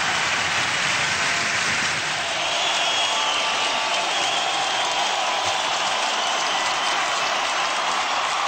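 Applause from a human rights rally crowd in New York, a broad, steady wash of many hands clapping at a distance, even and sustained with no voices standing out.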